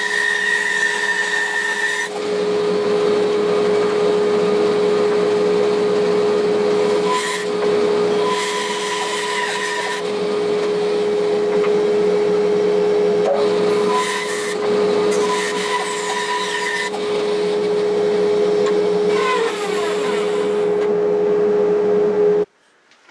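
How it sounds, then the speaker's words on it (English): An angle grinder cutting off a 3/4 inch adapter: a loud, steady high whine that runs continuously for about twenty seconds, with slight shifts in pitch and load, then cuts off abruptly. "I'm just going to cut this off with a angle grinder."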